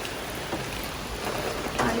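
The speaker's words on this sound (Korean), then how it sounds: "이거 비가 내리는 모습을 보니까 진짜 무섭네요." Rain falls steadily outside a balcony, a dense, continuous hiss and patter with a few louder splashes, heard close under a faint voice.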